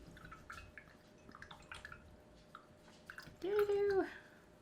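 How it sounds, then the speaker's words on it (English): A paintbrush gets swished and dripped in a water cup during a kids' painting lesson, with faint watery taps followed by one louder, short splashing rinse near the end. "I'm going to wash the brush off."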